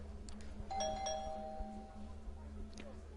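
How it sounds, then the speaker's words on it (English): A small bell on a shop door rings as the door opens, a bright, clear chime that sustains and fades over a couple of seconds, heard fairly close against a quiet room hum. "a little bell rings when you open the door"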